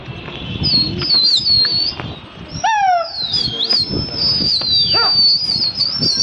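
A flock of pigeons at a Lucknow pigeon-flying gathering flaps past in flight, with a rush of wingbeats and whistling tones sweeping overhead against steady outdoor background noise.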